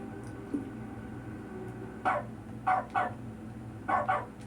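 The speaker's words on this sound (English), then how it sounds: "I can bark?" A dog barks in the video game The Stanley Parable's dog mode: five sharp barks in two clusters at a steady, fairly close level over a low, humming game background.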